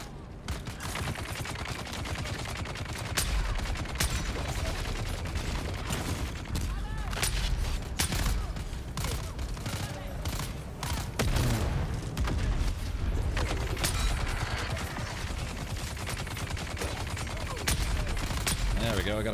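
Rapid, continuous gunfire and explosive booms from the survival video game Dune: Awakening, including a grenade blast, roaring loud and dense throughout with voices mixed in.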